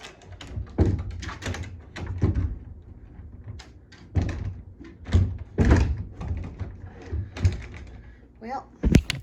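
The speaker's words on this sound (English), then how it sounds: "Well, can't get that closet door shut." A closet door in a house for sale is pushed repeatedly and fails to close, giving several dull thunks and knocks mixed with shuffling, while a person talks throughout.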